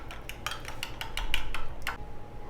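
A spoon clinks repeatedly against a bowl while mixing yogurt with mint, green chilli and coriander, a run of sharp close taps in an irregular rhythm.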